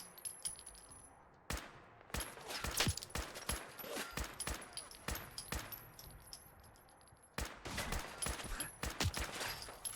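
Gunfire in the Fallout 4 video game crackles in sharp bursts and single shots, some near and loud, others quieter, spread irregularly across the moment with short pauses between volleys.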